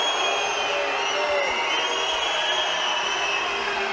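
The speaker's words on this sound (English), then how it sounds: "Crowd's booing because the referees are checking video." Sustained booing from an arena crowd at a men's team sabre fencing final, Korea against Hungary, at the 2019 World Championships in Budapest. It forms a steady, dense roar that holds for the whole stretch without letting up.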